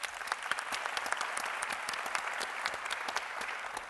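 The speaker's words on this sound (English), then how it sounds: "so a big round of applause for Maggie." An audience at a live panel discussion applauds, dense overlapping claps forming a continuous, even ovation that sounds somewhat distant and soft.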